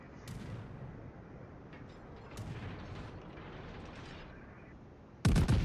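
Battleship gunfire in the naval combat game World of Warships while playing the Bayern, with distant booming salvos rumbling low and steady and a sudden loud blast at the end.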